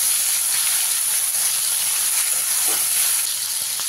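Shrimp frying in hot oil in a pan, a loud, even, continuous hiss held close throughout without pauses.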